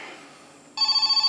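A telephone at a cold rural sheriff's station begins ringing partway through after quiet room tone, loud and close, its bright electronic trill pulsing in rapid, regular bursts.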